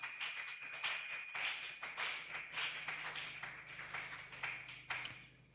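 Church congregation claps, a fairly quiet run of steady rhythmic handclaps over a low electrical hum, fading out at the end.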